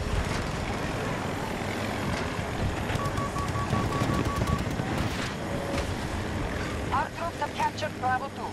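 A helicopter flies in a multiplayer video game, its rotor and engine a steady loud drone with gunfire bursts and game effects layered over it, while players talk throughout.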